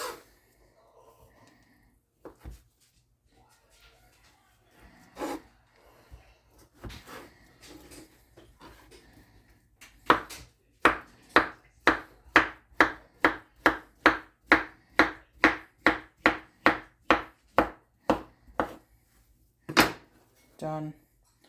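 Carrots chopped with a knife on a cutting board for a vegetable frittata, scattered thuds at first, then a fast regular run of about twenty sharp, close knife strikes, followed by one or two final chops.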